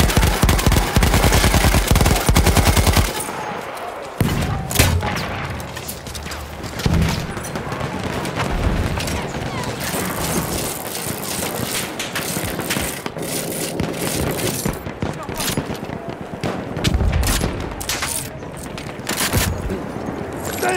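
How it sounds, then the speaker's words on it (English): Sustained machine-gun fire in a combat video game, with long rattling bursts and scattered heavier booms and mechanical clicks layered throughout, loud and continuous for the whole stretch. "Machine gun!"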